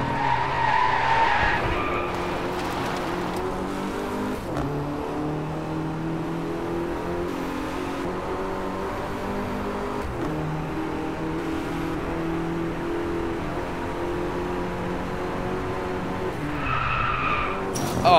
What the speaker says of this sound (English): Oh, that was some hard-ass braking.